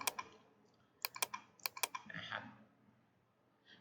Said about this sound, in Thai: กดคลิกก่อนนะครับ แล้วก็กด delete ที่คีย์บอร์ด